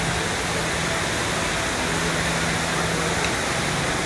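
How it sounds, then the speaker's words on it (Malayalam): A steady, roaring rush of falling water pours on without pause, loud and close, from an indoor waterfall in Singapore, with no voices. "ലോകത്തിലെ തന്നെ ഏറ്റവും നീളം കൂടിയ ഇൻഡോർ വാട്ടർഫോൾസ് ആണെന്നാണ് ഇത് അറിയപ്പെടുന്നത്"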